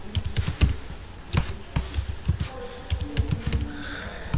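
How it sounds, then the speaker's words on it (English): Fingers type a password on a close computer keyboard, tapping out irregular quick clusters of crisp keystrokes over a few seconds. "I am just entering the password"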